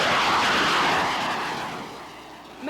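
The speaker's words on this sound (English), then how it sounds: "The mini-jet doesn't actually get off the ground, but F-16 Fighting Falcons sure do." F-16 Fighting Falcon jets at an air show make a broad, loud roar that slowly fades as the aircraft pass, ending with a brief swell of sound.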